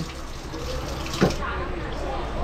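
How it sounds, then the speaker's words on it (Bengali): Water streams steadily into a washbasin in a train toilet, a soft continuous splashing hiss set against the rumble of the moving train, with faint voices underneath. "বেসিনে জল পড়ছে"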